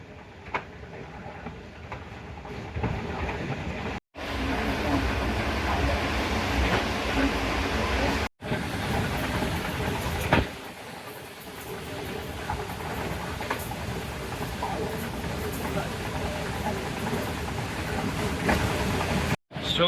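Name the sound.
extra train rake passing by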